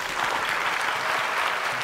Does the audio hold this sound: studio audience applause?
yes